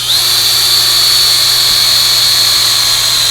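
A loud, steady high-pitched drill whine runs continuously, close and unbroken, drilling into an African animal skull during repair, with no talking.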